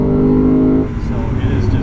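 A 2015 Lexus RC F engine holds a strong steady tone, then drops sharply on a quick upshift and continues lower, loud and close, with someone talking over it.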